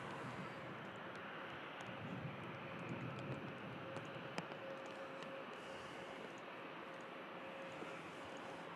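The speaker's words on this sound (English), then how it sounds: "Let's see this landing." A jet airliner landing at Manchester Airport produces a steady, broad engine roar heard from a distance that holds at an even level throughout, with no talk.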